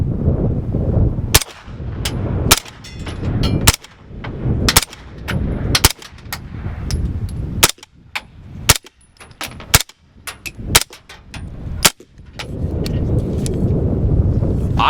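Suppressed shots from a HiTec Arms direct blowback barrel with a 12-inch suppressor: about a dozen sharp, close reports fired at an uneven pace, each a muffled crack with a brief tail, over a low background rumble.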